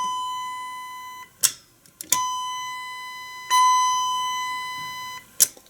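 Elevator call button with a newer switch sounding a sustained electronic chime tone twice, each set off by a sharp click of the press, close and clear with no talk.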